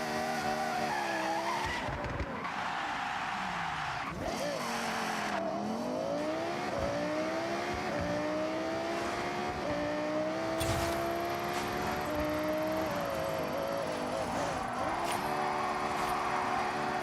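A Toyota Supra in the Forza Horizon racing game skids with long screeching tire squeals over a revving engine, the pitch sweeping up and down as the car slides through turns, with no voices over it.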